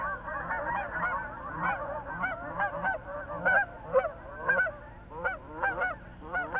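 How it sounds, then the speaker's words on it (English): Geese honk repeatedly and overlapping at a southern Canadian beaver pond in early spring, a steady chorus of loud calls at moderate distance with no voices. "Most of the geese will rest and feed, then move on."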